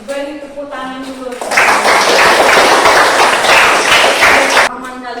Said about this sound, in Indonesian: Ini beri tepuk tangan dulu.